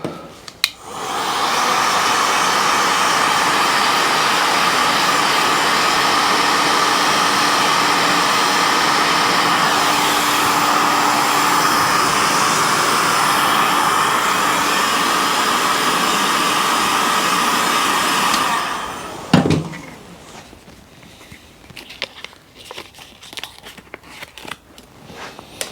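Heat gun warming a badge sticker on a motorcycle, blowing as a steady loud close whoosh for about eighteen seconds before cutting off, followed by soft handling clicks and rustles.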